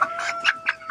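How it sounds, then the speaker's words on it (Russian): An Ameraucana rooster held in someone's arms gives a few short, soft clucks in quick succession, close by and fairly quiet. "Хороший петушочек такой."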